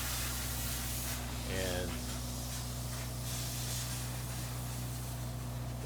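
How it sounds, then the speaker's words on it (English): Spray insulation being blown onto bubble wrap inside barndominium walls, a constant close hiss under someone talking, with a low steady hum beneath it. "And it won't tear up your insulation that you're spraying in."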